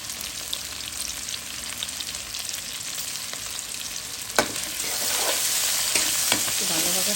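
Chopped onion and tomato with salt frying in a pan for a fish curry, a loud continuous sizzle with stirring scrapes that grows fuller in the second half.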